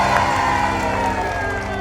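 A studio audience at an Indonesian TV show cheers loudly and continuously, a dense crowd roar with whoops over a musical backing.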